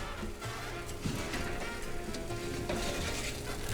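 Roasted cherry tomatoes and onions fresh from the oven sizzle softly and steadily, with faint clinks and scrapes of handling over a quiet kitchen background.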